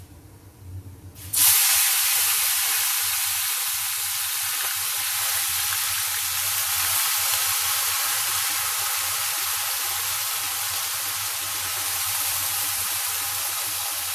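A loud, steady hiss of washed chopped cabbage sizzling as it goes into a hot pan of popped mustard seeds starts abruptly and continues evenly, close and bright, with no voices.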